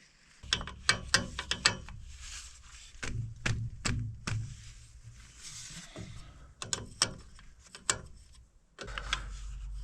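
Repeated mechanical clicks and clunks from a hand fuel pump being worked on an Åkerman EC300 excavator, uneven strokes in quick clusters, close by with a low hum underneath.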